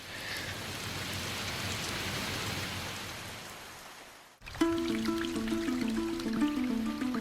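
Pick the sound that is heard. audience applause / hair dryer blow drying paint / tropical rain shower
tropical rain shower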